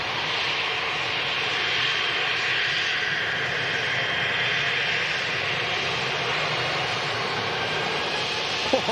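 An Air Transat airliner's jet engines roar steadily during the takeoff roll at an airport, a continuous broadband rush heard from a distance, with no voices.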